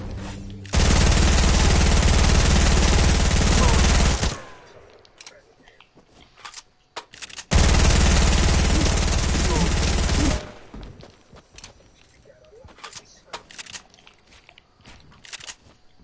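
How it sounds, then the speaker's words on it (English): Two long bursts of sustained rapid gunfire in a PS4 video game, loud and close, each lasting a few seconds, separated and followed by quieter clicks and faint background noise. "my father's shooting at me"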